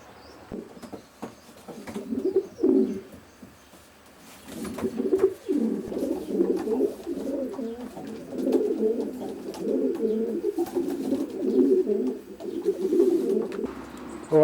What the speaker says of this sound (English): he houses about 32 Widowhood cocks,